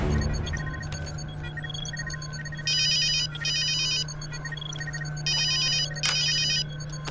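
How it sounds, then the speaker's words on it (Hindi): A telephone rings in repeated electronic bursts during a scene in a Hindi-dubbed South Indian action film, sounding clear over a steady low background hum. "उस नए प्लेयर रिहाल खान को फोन लगाओ।"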